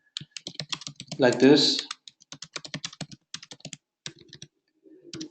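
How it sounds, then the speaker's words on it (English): Keys tapped out on a computer keyboard while a chat reply is composed, a quick run of light clicks at close range, with a person talking over and between the keystrokes. "Normally what you do is, you type out the response"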